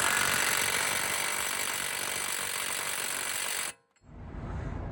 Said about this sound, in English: We can fit our new nut on there and torque it up to manufacturer specific torque settings